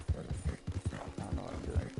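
Horse hooves clip-clop in a steady rhythm as a rider moves along a track in a PS4 video game, the footfalls fairly quiet with faint mechanical noise behind.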